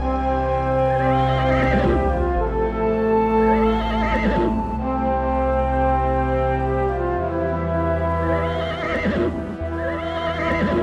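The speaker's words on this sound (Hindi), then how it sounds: "अरे इतने सारे घोड़े किसके हैं?" Several horses whinny repeatedly over a steady background of music-like harmonic tones, with repeated neighs rising and falling loudly throughout, and a faint clip-clop of hooves beneath.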